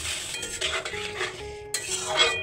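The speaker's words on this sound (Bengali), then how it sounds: "এবার লবণ হলুদ ভালো করে নেড়ে চেড়ে মিশিয়ে নেব" A spatula stirs salt and turmeric into food frying in a pan, producing close scraping and light metallic clinks over a soft sizzle, with no one talking.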